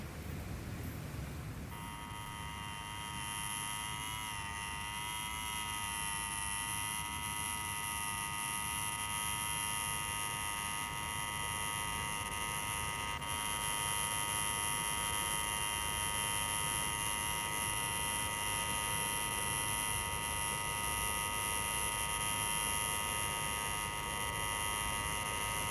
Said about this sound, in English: Take your finger off that bleeding buzzer.